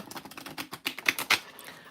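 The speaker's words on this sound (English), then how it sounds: "Let's get a quick shuffle on these affirmations." Quick crisp papery flicks and slaps in an uneven rapid run, close by and moderately loud, as a small deck of affirmation cards is shuffled.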